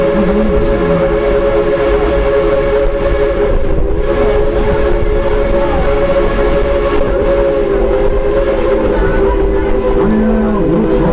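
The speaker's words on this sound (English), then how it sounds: "looks like our train trip is just about over" A steady rumble of a moving train, loud and continuous, with a sustained whistle-like tone droning throughout and rattling carriage noise.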